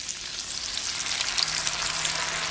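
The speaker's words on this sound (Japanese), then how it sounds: "調味液を加えたらウインナーに絡めながら軽く煮詰めていきます。" Sausages fry in a pan as seasoning liquid is poured in, producing a loud, dense, continuous sizzle up close with no talk.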